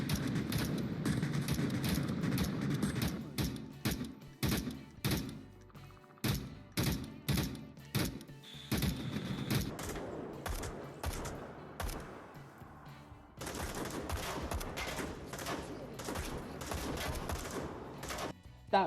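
Rapid bursts of gunfire from the VR shooter Onward, with sharp repeated shots and fusillades of varying density, some close and loud, others denser and continuous toward the end.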